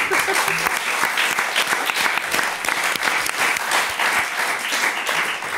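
Podcast audience applauding after a joyful anecdote: steady, close, dense clapping that stays loud and even throughout, with no speech over it.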